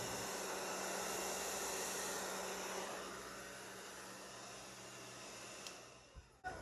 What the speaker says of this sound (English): I'm trying to be very careful about how I blow, how I use my blow dryer